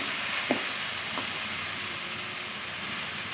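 Ripe tomatoes sizzle in a pan while being stirred for drumstick thokku, a steady close frying hiss with a couple of faint scrapes from the spoon.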